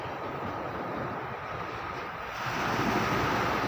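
Sea waves wash continuously onto a beach on the Gulf of Thailand at Songkhla, a broad roaring surf with wind noise that swells louder toward the end.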